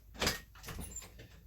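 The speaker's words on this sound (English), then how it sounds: "The door's right there." A door swings open to let a pet out, giving a broad scraping rush followed by a few softer knocks and rattles, fairly close and brief, with no voices.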